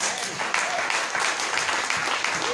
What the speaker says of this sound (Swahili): Yes, makofi.